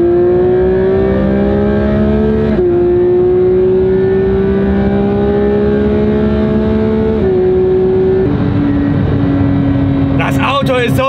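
A very fast car at full throttle on an unrestricted Autobahn, heard loud from inside the cabin as the engine note climbs steadily, drops at each of three quick gear shifts, then climbs again.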